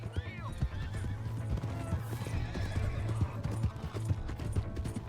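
Horse in Red Dead Redemption 2 galloping with rhythmic hoof clip-clops and a shrill neigh near the start, set against game ambience and shouted voices.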